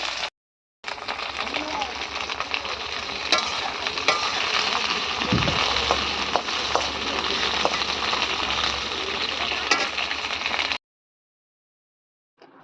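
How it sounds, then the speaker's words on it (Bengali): Okra sizzles and fries steadily in a hot pan in a home kitchen, a loud continuous crackle with occasional stirring clinks, then stopping abruptly. "তো এদিকে ঢ্যাঁড়সটা আমি ভেজে নিলাম।"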